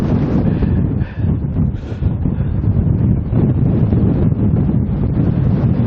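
Strong wind gusting through woods buffets the microphone, giving a continuous loud, roaring rumble with no voices over it.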